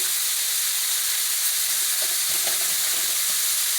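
Kashmiri chilli powder, garam masala and spices sautéing in a pan for a wheat paratha filling, a loud steady frying hiss with faint stirring clicks and no talk.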